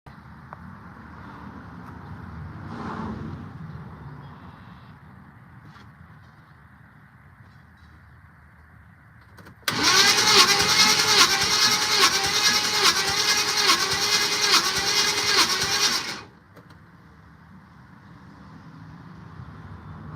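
A Buick Regal engine cranks over during a compression test: a loud, evenly pulsing starter churn lasts several seconds, with quieter shop background before and after.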